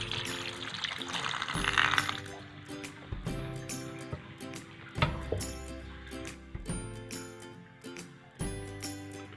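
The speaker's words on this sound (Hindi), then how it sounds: "इसके ऊपर ठंडा पानी डाल दें ताकि आपस में जुड़े नहीं।" Cold water is poured over boiled pasta in a kitchen, with a splashing pour early on followed by several clinks and knocks of dishes and a metal pot.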